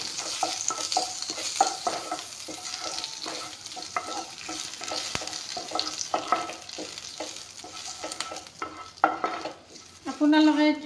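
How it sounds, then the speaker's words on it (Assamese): Bay leaves and cardamom frying in a little refined oil, with a soft continuous sizzle broken by repeated scraping stirs of a utensil in the pan, sometimes clinking the metal, and a louder clatter near the end. "তেজপাত ইলাচিখিনি অলপমান ভাজি ল'ম।"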